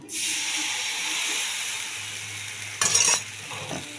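Patishapta batter sizzles and fries in a hot pan as it is spread into thin crepes, a steady close hiss with a brief louder burst of crackling near the end; no one speaks.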